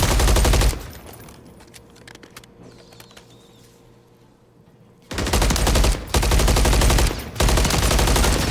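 Gunfire in a video game esports match: long, loud automatic bursts, one near the start and a sustained stretch later broken by short gaps, with quieter ambience between.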